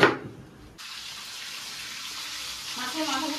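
Water pours steadily into a bowl in a home kitchen, a continuous close splashing rush that starts abruptly after a brief noisy moment and runs to the end.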